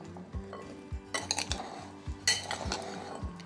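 Chickpeas stirred with salt in a dish, a spoon clinking and scraping against it in a steady rhythm, with a low repeating thump beneath, close and clear with no talking.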